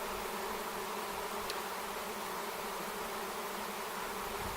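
A swarm of honeybees hums around apple trees, a dense, even drone of countless wings that holds steady and close throughout with no talking.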